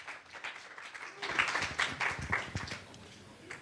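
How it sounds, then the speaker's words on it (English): A congregation at a church service applauds the band, quiet scattered clapping that swells after a second into a fuller round of applause, heard from a distance in a reverberant room. "let's give the band a round of applause as they dismount"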